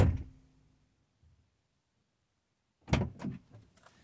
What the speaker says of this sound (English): Close the driver's door, reopen the driver's door.